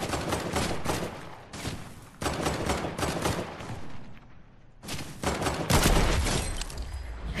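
Gunfire in a shooter video game: loud, dense bursts of rapid shots come in several long volleys separated by brief lulls.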